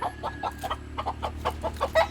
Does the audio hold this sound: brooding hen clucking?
yes